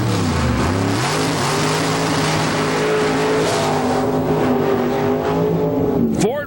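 A 2005 IHRA alcohol funny car roars down the drag strip lane at the Rocky Mountain Nationals, its engine a loud, sustained, rising snarl that holds for several seconds before ending in a sharp drop.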